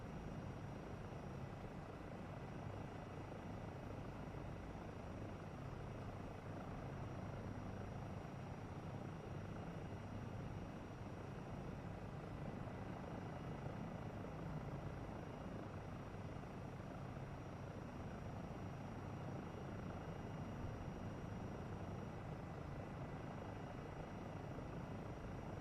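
Helicopter in the PSVR 2 game Helicopters, a steady rotor thrum and engine drone holding at a constant loud level throughout, with no voices.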